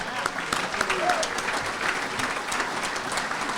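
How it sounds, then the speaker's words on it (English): Applause from the audience at the Bristol Sports Hall of Fame 2024 induction ceremony, a steady, dense patter of many hands clapping that fills the hall evenly for several seconds, with no voice over it. "can I get a round of applause for Jim Tetro, please?"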